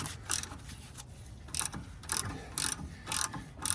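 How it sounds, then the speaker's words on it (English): A hand ratchet works bolts loose on the lower roller of a rubber track excavator, giving quick bursts of close, crisp clicking repeated in a steady rhythm with short pauses between. "Grab my ratchet, see if I can get these on here now, make it a little quicker."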